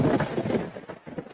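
A deep rolling rumble of thunder fills a short stretch of a radio ad for Generac standby generators, loud and close, swelling then fading into lower rumbles without any voice over it.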